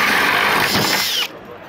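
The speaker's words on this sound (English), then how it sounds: "This is the only hole saw on the market that can drill at an angle," A power drill spins a hole saw through material with a loud, steady high whine and grinding churn that cuts off abruptly near the end, leaving a quiet tail.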